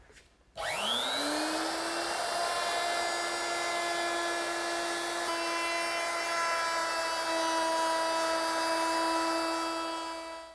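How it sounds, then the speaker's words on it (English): A handheld router fitted with a 1/4-inch round-over bit spins up to a loud, steady high whine and holds it for about ten seconds while it shapes the edges of an ash table top, close by with no talking. "the last milling operation is to round over these edges on all four sides"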